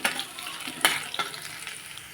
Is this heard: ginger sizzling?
yes